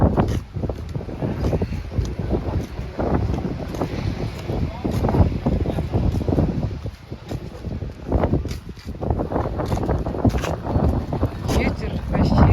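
Strong wind on the Evpatoria seaside buffets the microphone in a steady, roaring rumble that surges and dips throughout, with no voices.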